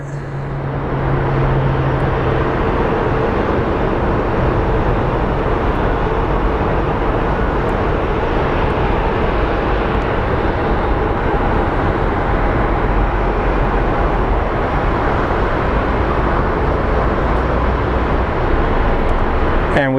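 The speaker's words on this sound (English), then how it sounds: "Okay, the 767 is moving, and so is our Air Canada flight." A Boeing 767 and an Air Canada airliner taxiing at Sky Harbor International Airport in Phoenix, a steady broadband jet engine roar that holds evenly throughout, heard from a distance.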